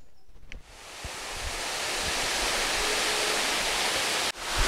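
An artificial waterfall in a park in Nice sends up a dense, steady rush of falling water that swells slightly and stays loud, with a few soft knocks at the start and the end.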